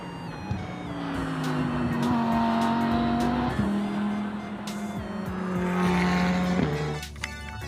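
Race car engine and squealing tires played for a green toy race car, a loud continuous engine whine with gear-shift pitch changes and skidding, alone without talk.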